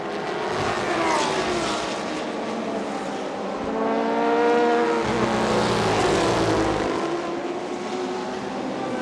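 Race cars including Lexus and Porsche models roar past on a circuit during a 2019 TSS race, high-revving engines rising and falling in pitch with Doppler sweeps, loud and continuous as several cars pass.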